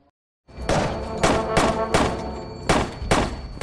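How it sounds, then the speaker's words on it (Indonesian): Gunshots in the horror film Last Shift, about five heavy booming shots fired at irregular intervals after a short silence, loud and close. "Saat Lauren menembak yang terakhir"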